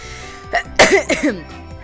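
A few short, sharp coughs burst out close to the microphone in quick succession, with a brief breathy catch between them.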